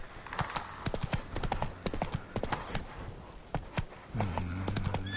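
A horse's hooves clip-clop steadily and close up as it trots in The Witcher 3 game. The rhythm is brisk and regular, and a low tonal sound joins near the end.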